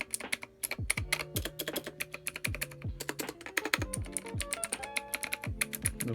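A K28 mechanical keyboard is typed on rapidly, sharp clacky keystrokes in quick irregular bursts with deeper thocks from larger keys, close and crisp with no talking.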